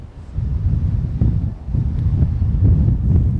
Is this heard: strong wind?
yes